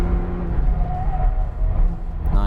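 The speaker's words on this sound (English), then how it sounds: "Nice little gear shift there." A 2019 Hyundai Veloster at speed on a race track, engine droning then dipping briefly for a quick gear shift before pulling again, captured from inside the car at moderate level with no talk.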